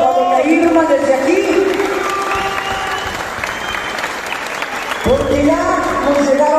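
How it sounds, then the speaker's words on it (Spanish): A crowd at a tribute event applauding and cheering for doña Irma González, dense clapping with shouts throughout while an amplified voice talks over it. "Vamos a darle un aplauso a doña Irma desde aquí"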